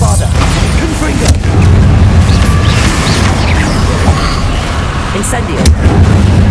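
Bombarda and Confringo spells go off in Hogwarts Legacy as a dense, loud barrage of booming blasts and crackling bursts. The explosions layer over a heavy rumbling bed with no clear gaps between them.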